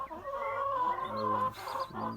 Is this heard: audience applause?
no